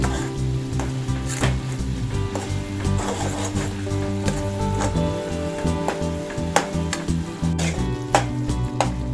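A coconut and jaggery filling with cardamom powder is stirred in a pan, giving a loud continuous sizzle broken by sharp, rhythmic spatula scrapes and taps against the pan, close and without speech.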